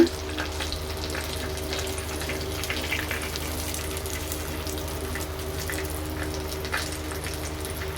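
Chicken fry pieces sizzle in hot oil in a home kitchen, a steady close hiss and crackle running evenly throughout with a faint hum underneath.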